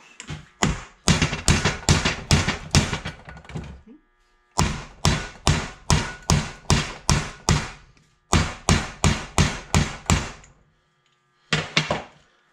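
Bearing races being driven into a Graco LineLazer IV 5900 front wheel with a race setter and a hammer, heard as several bursts of rapid, steady, close metallic blows broken by brief silences.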